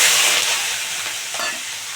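Prawns dropped into hot oil tempered with cumin, bay leaf and dried chili, a loud, close hiss of frying that settles slightly, with a faint stirring scrape and no voices.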